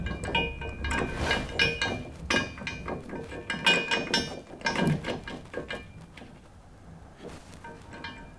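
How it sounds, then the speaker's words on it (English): Ratcheting and metallic clicking while bolts are tightened to fit nerf bars on a Polaris Ranger 1000, rapid close ratchet strokes in bursts with light clinks, easing off toward the end. "I'm going to go through and install the other bolts."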